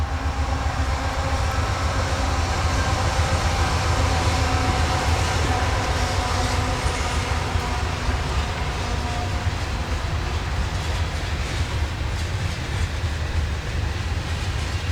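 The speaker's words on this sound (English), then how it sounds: "Looks like it's a train coming." A train rolls past on tracks right beside a house porch, a loud steady rumble with rhythmic clickety-clack of wheels over rail joints, continuous for the whole stretch with no voices.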